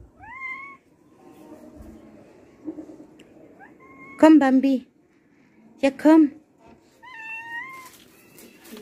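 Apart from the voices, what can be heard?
cats meowing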